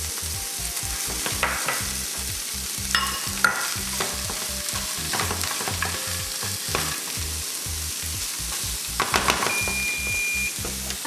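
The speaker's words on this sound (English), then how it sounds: "You're going to mix these together for about 5 minutes, stir them constantly." A pan of meat, frozen peas and mashed potatoes sizzles steadily while it is stirred, with a regular scraping rhythm and a few faint clinks, and no voices.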